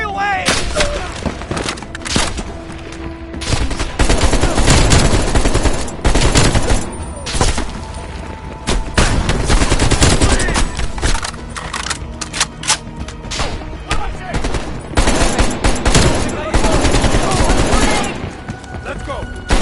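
Dense, continuous gunfire from the video game Call of Duty: Cold War, with rapid automatic bursts, single shots and booming blasts layered loudly throughout, broken only by brief lulls and joined by intermittent voices.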